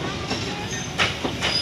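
A local commuter train rolls past at moderate distance, a steady rumbling wash with faint clickety-clack of wheels on rail and a light hiss, no voices over it.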